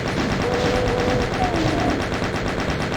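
Rapid continuous chaingun fire in Doom II, a dense steady stream of close gunshots lasting the whole stretch with faint tones behind it.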